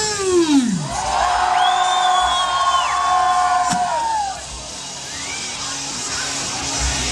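A crowd at the 2012 U.S. Diesel Truckin Nationals screams and cheers loudly and steadily, with rising and falling whoops over the sustained roar for several seconds.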